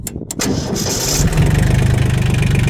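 An old Iseki TL2300 tractor engine starts after its glow plug warms. A few short, loud cranking bursts lead to the engine catching and settling into a steady, close, pulsing idle.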